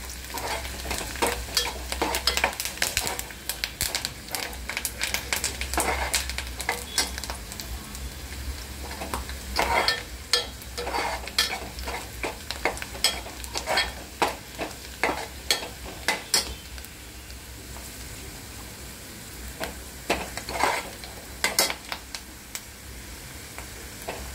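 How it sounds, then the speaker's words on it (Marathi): Onion frying in a pan for kaleji fry masala, with a steady sizzle under repeated scraping and clattering strokes of a spoon stirring, close and fairly loud throughout. "कांदा पूर्ण लाल थोडासा होईपर्यंत भाजायचा"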